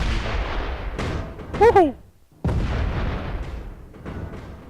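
Space Engineers game explosions rumble in heavy booming bursts, with a voice cheering over one, a brief lull, then more rumbling blasts.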